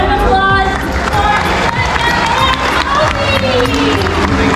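A live audience at an otter show cheers, shouts and claps for Opie, a small full-grown otter. The crowd noise is loud and dense, with children's voices rising through it.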